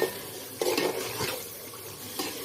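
Masala is stirred and fried in a pan on the stove, soft scraping strokes over a low steady sizzle, close and fairly quiet, with no talk.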